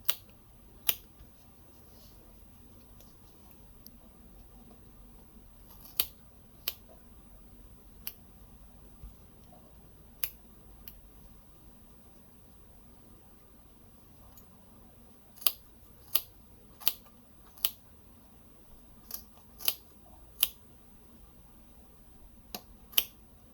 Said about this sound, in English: And then you just start cutting it right down the middle where the 2 pieces come together.